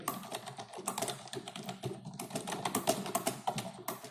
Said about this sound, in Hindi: आप टाइप करना स्टार्ट करेंगे